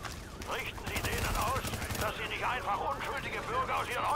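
Weapon fire in the video game The Division, a rapid series of sharp gunshot bursts crackling through most of the stretch, loud and close, with a voice talking around the shots.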